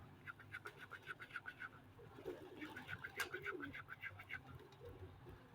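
Soft, repeated cooing of pigeons, rhythmic throaty calls overlapping from a few birds nearby, with light background noise.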